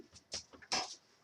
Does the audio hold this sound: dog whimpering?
yes